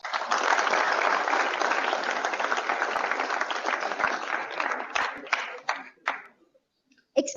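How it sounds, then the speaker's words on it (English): An audience at a college tech festival inauguration ceremony gives a full round of applause, dense and steady at first, then thinning into scattered individual claps before fading out. "Can we please have another huge round of applause?"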